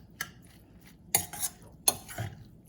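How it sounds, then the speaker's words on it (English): Millet upma with mixed vegetables, made without oil, stirred in a pan with a spoon: a few distinct scraping strokes against the pan, clear and close, with quiet pauses between them. "Let's give it a good stir"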